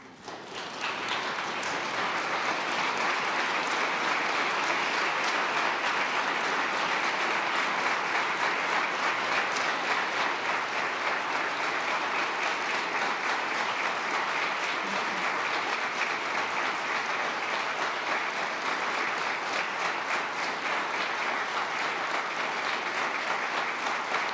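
An audience at a Justice Department opioid summit applauds to welcome the First Lady, a loud, sustained wash of clapping from a large crowd that swells quickly and holds steady for over twenty seconds.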